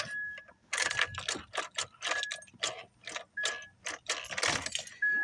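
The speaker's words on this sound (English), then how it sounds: "what to do if your car will not start and if it is just a clicking sound" A car that will not start makes a steady series of quick, dry mechanical clicks, repeating in an even rhythm of fairly close, moderately quiet ticks with short pauses between them.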